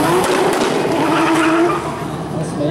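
Race cars at a motor day in Vikersund roar past at close range with loud engine noise and tire squeal, the sound dipping slightly toward the end.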